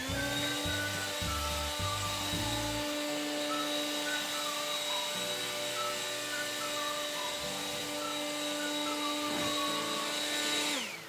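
Bosch 4-speed leaf blower running steadily, a loud close whining roar with a sustained high tone that holds through and cuts off abruptly at the end.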